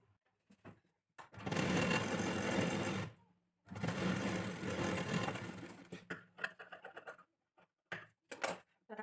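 A sewing machine stitches a blouse with four tucks in two sustained runs of steady whirring, the second trailing into shorter stop-start bursts and quiet gaps; no talk is heard.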